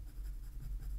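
A colored pencil scribbles across sketch paper in quick, soft, scratchy strokes, heard close up and fairly faint.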